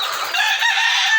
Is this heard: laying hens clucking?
yes